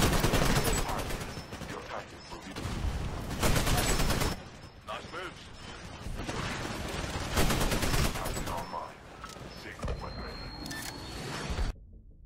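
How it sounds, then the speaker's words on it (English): Bursts of Spitfire LMG machine-gun fire in the shooter game Titanfall, loud sustained volleys alternating with short pauses, with in-game sound effects throughout. "Next we're looking at the Spitfire LMG."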